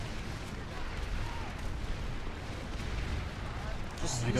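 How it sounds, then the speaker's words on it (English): Explosions and artillery fire boom through a video game battle in which the TR and NC factions fight over a point on a stairway, with dense overlapping blasts and rumbling bursts, a heavier burst at the end, and speech mixed in. "look at all these explosions here"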